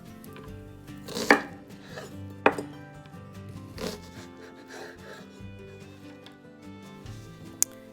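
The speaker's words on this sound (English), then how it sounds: "I'm just rough chopping these items" A few sharp knife chops through onion and ginger on a cutting board, spaced unevenly apart, close by with a soft kitchen hum underneath.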